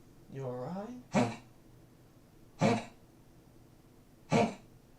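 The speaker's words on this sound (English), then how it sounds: "My dog's coughing behind me." A dog gives three short, harsh coughs spaced a second or so apart, after a brief wheezy breath.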